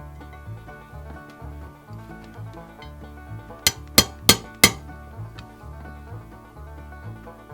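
Four sharp metallic clinks in quick succession stand out over a steady low hum, each one bright and close, as the hammer pin is fitted into a Colt Python revolver.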